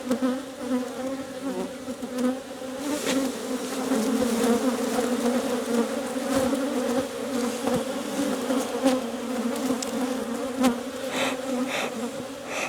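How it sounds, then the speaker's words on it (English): A dense, steady swarm of honey bees at an opened hive drones continuously up close, a thick layered buzz with occasional louder passes near the listener. "now these bees, I better get some smoke on these"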